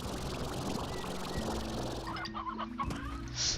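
A chicken clucks in the video game Slime Rancher, a few soft, repeated bursts over a steady low background, fairly quiet and close.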